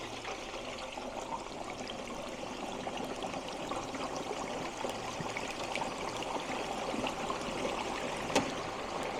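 Turkey being slowly lowered into hot oil in an outdoor deep fryer, a steady, moderately quiet bubbling and sizzling hiss that runs evenly throughout, with no talking.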